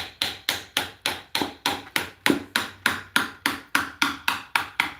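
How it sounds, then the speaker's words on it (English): A small hammer taps steadily under carpet to lift it from the floor, about thirteen sharp, evenly spaced knocks in five seconds, close and fairly loud with no talk. "I'm just kind of tapping this under here to get this to come up out of the floor"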